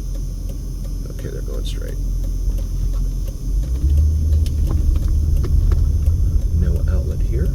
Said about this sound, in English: we've got a car coming at us here